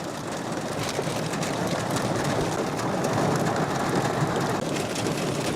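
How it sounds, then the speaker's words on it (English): Steady, dense rain pours down on a camper van at a campsite at night, a continuous broadband hiss and patter of drops on the roof that holds loud and even throughout, with no talking. "Rain begins unexpectedly, quickly intensifying."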